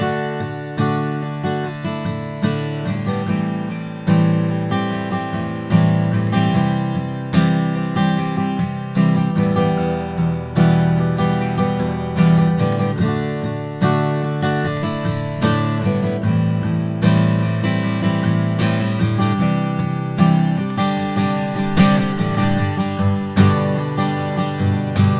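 A Martin 000-18 mahogany short-scale acoustic guitar plays straight in without effects, with rhythmic strummed chords and picked notes sounding close and warm throughout.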